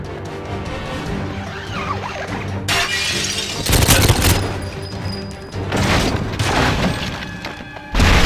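In a shooter game set in St. Petersburg archives, gunfire strikes a fire extinguisher that bursts. Loud shattering cracks and heavy booms land in several jolting impacts over a rumbling, noisy background.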